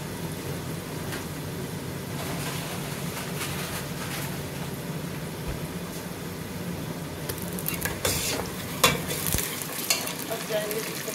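Garlic and ginger sizzle in hot oil for mash ki daal, a dense steady frying hiss with scraping stirs, and sharper clatters of the spoon against the pan toward the end; no talk.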